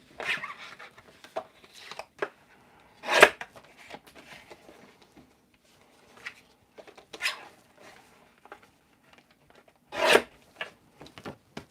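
Black paper being trimmed for a snowman stamping project, heard as scattered raspy cutting and rubbing strokes, with a few louder bursts among quieter handling sounds and no talking.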